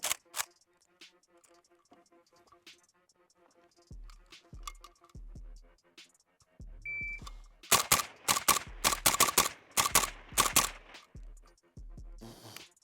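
A suppressed full-size AK-47 fires 7.62 rounds in quick bursts of sharp, loud reports with some mechanical clatter between strings of shots, and no talking.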